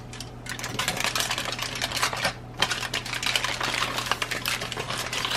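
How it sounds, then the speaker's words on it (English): Aluminum foil is folded and its packet edges crimped for a seafood bake, giving dense, continuous crinkling and crackling close by, steady throughout with brief dips. "Now I'm going to fold this up and crimp the edges."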